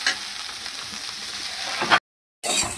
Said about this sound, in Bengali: তো আমার সয়াবিনগুলো এখানে ভাজা হয়ে গেছে